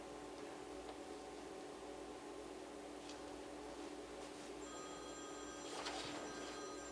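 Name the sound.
telephone ringing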